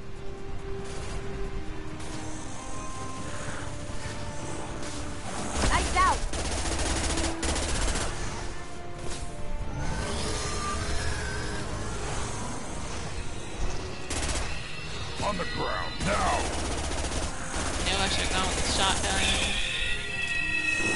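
Repeated gunfire from a firefight in the sci-fi shooter Mass Effect 2, with shotgun blasts among dense bursts of shots over a steady background of game music and effects.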